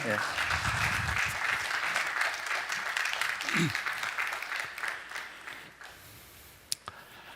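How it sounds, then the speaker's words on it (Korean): An audience at a Bible seminar applauds to welcome a pastor to the podium, moderate clapping under a voice that thins and fades out, followed by a couple of sharp knocks near the microphone. "박수로 환영해 주십시오."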